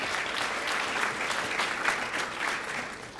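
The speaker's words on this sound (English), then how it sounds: "Give them a round of applause for really making this trek." Summit audience applauding, a sustained wash of many hands clapping from a crowd at middle distance, steady and even for its whole length.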